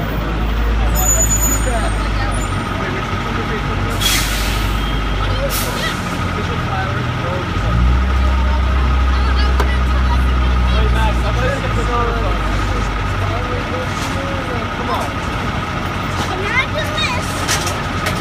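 Trucks idle and rumble nearby at an outdoor evening event in Harvard, a steady low engine drone with an air brake hiss partway through, while people talk in the background.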